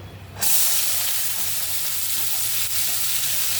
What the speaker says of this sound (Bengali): তো এখন আমি দেখেন মাছের তেলটা রেখেছি, এটার মধ্যে এটা ঢেলে দেবো পেঁয়াজটা